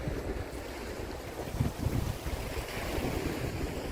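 Waves washing at a harbour entrance, a steady broadband surf roar mixed with wind buffeting the microphone, with no voices.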